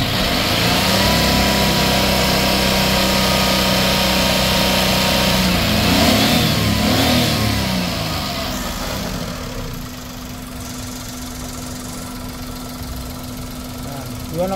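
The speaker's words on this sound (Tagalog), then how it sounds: "Subukan natin na uli na galitin yung makina para uminit uli yung makina niya." A Hyundai Eon engine with an overheating problem is revved hard, a loud sustained roar that holds high for several seconds, then drops back to a lower steady idle hum.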